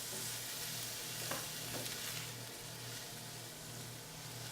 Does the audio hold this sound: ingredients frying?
yes